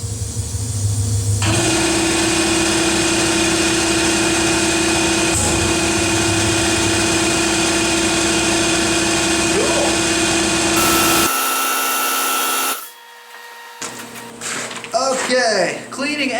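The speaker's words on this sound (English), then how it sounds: "The pulse cleaning button is used for filter cleaning" An Avani SPC 2000 welding fume extractor blows with a loud steady roar and tonal hum, its airflow cutting off abruptly near the end, followed by a short sharp pulse burst and clattering of the filter-cleaning cycle.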